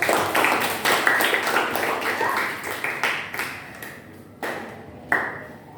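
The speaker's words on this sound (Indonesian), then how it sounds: "Tepuk tangan untuk teman-teman" Classmates in a school classroom clap for one another, a dense burst of hand claps that thins out, stops, and returns in two short sharp flurries near the end.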